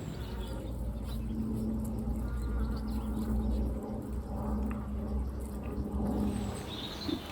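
Honey bees fill an open hive with a dense, continuous buzzing close by, holding steady at one level, with faint chirps from birds somewhere behind.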